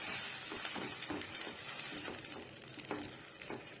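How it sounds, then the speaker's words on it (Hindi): Milk, about 250 grams, poured into hot ghee in a pan, giving a steady loud sizzle and bubbling that fills the whole stretch without pause. "देखिए मैं दूध डाल रही हूँ लगभग 250 ग्राम जितना"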